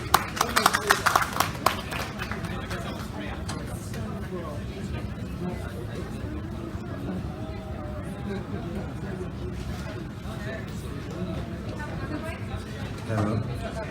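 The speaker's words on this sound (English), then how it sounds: "So everybody please give this final panel a warm round of applause." A conference audience at a fashion tech event on blockchain claps to welcome the final panel. Dense applause is heard briefly at the start, then fades into steady crowd chatter and murmuring voices.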